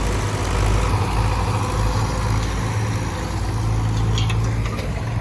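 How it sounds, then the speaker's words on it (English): Steady low engine rumble of two tractors rolling past together, a continuous drone with no voices. "2 tractors passing together"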